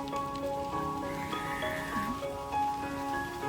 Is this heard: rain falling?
yes